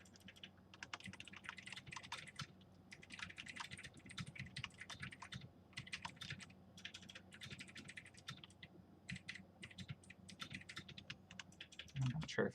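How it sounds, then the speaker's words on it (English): A loud computer keyboard clatters in rapid bursts of keystrokes with brief pauses, heard faintly over a quiet room, ending with a louder bump or handling noise. "Alex just has a very loud keyboard."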